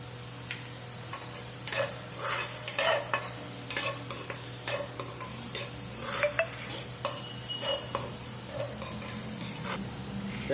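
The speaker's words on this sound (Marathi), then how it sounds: "तेलामध्ये थोडासा कांदा परतवून घ्यायचा" Onion sautés in oil with a continuous low sizzle, and a utensil clicks and scrapes against the pan in quick, irregular strokes, heard close and fairly quiet.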